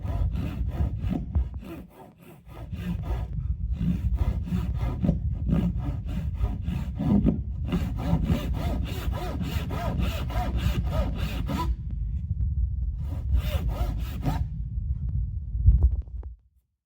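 A tenon saw cutting a housing joint in wood, sounding as a run of quick rhythmic rasping strokes in bursts separated by short pauses, close and loud, with no talking.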